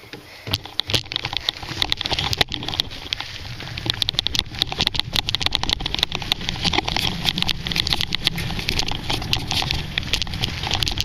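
A dirt bike on a rocky hillside track rides off, its engine a steady, loud, rough drone mixed with crackling gravel and wind noise that holds for the whole stretch.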